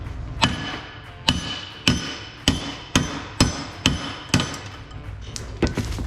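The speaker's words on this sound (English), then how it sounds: "all that entails is giving it a few whacks with a sledgehammer" Sledgehammer blows knock out the suspension studs on a Ram TRX truck. About ten loud, close metallic whacks land at a steady rhythm, roughly one per half second, and speed up near the end.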